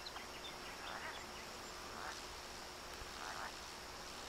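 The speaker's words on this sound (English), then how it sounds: "I can hear a frog ribbiting." Frog croaking in the VR fishing game Catch & Release, a few faint, brief calls spaced apart over a steady outdoor ambience of insects and hiss.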